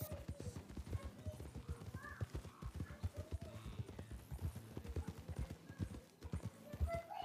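Horse hooves clip-clop steadily in a Wild West roleplay game, a brisk regular trot close by and loud, with quiet voices faintly underneath.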